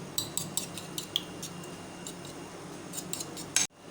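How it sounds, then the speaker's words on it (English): A utensil clinks and scrapes against a bowl, beating eggs with flour, breadcrumbs, salt and black pepper. Sharp taps come in short, irregular bursts at close range, then the sound stops abruptly near the end. "Now we will beat it."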